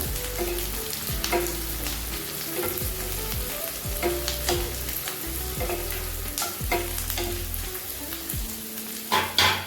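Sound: curry leaves sautéing in oil

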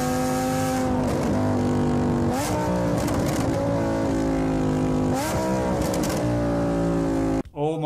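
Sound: Lamborghini Huracan with FI exhaust revving

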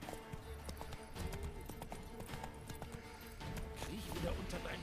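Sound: horse hooves clip-clopping while riding, from video game The Witcher 3

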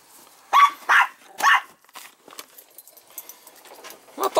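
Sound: dog barking

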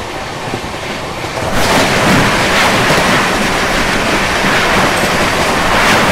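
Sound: Trivandrum Rajdhani Express train running past Mathura Junction

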